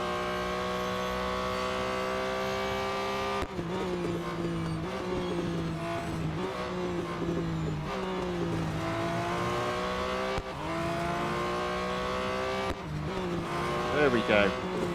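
Race cars in the mobile game Real Racing 3 roar constantly, engines revving and shifting through gears with steady loud tonal whine, while a commentator talks over the racing.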